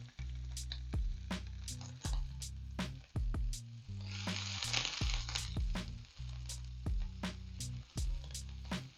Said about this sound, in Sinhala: අපි තෙල් ටික රත් වුණාට පස්සේ මේකට පොඩිවට කපාගත්ත සුදු ලුණු ටික මේ විදිහට දාගන්නවා